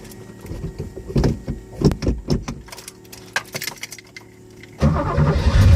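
A manual-transmission car idling and lurching as a learner eases the clutch out, with clunks, knocks and rattles from the cabin, and the engine note swelling louder near the end.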